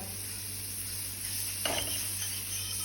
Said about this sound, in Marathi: मस्त पैकी असं आपलं बटर लावून घ्यायचं छान असं तव्याला